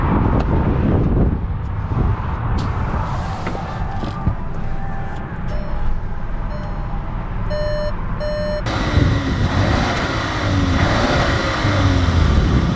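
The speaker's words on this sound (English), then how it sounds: "Let's take this Tiguan out and see how it drives." 2020 Volkswagen Tiguan SEL Premium setting off, with a steady engine and road drone inside the cabin, a run of electronic warning beeps midway, then louder road and wind noise as it picks up speed.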